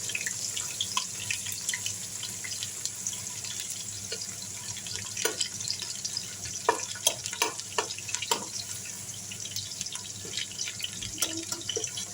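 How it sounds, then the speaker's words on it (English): Chopped onions sauté in oil for a Nigerian pepper stew base, a faint, steady sizzle with scattered soft pops and clicks and no talk. "I will allow it to saute a little to remove all the oil smell."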